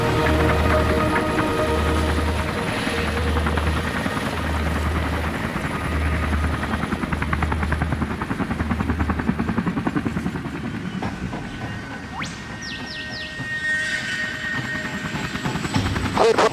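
The Westpac Lifesaver rescue helicopter flies over Sydney's Royal National Park, its rotor thudding in a loud, steady pulse with turbine whine, heard close and continuous without talk.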